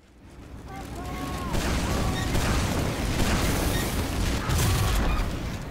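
Grenade explosions in a shooter video game roll out as a dense, continuous barrage of booming blasts and heavy rumble, loud and sustained across the whole stretch with a few swelling peaks.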